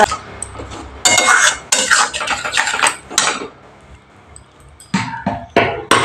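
Masala being stirred and fried in a pan for Bengali bhola fish curry, with a spoon scraping and clinking against metal in loud irregular bursts separated by brief quieter pauses.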